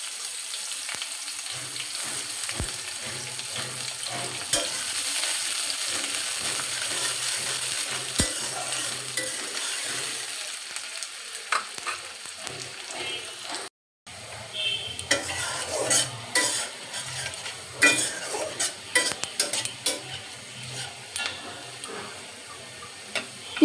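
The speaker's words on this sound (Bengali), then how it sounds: "দুটো পেঁয়াজ কুচি দিয়ে দিব। লাল করে ভেজে নেব।" Chopped onions sizzle steadily in a hot pan, frying until red for a Bengali egg bhuna, with intermittent clicks and scrapes of a spoon stirring, close up and without talking.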